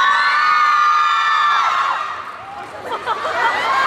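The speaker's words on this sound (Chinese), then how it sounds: "来，掌声有请周深" A crowd at a Zhou Shen meet-and-greet for Jiang Ziya at Hangzhou Joy City cheers and shouts in welcome, loud excited voices and whoops swelling toward the end.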